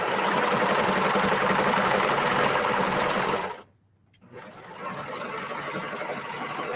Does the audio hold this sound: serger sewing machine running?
yes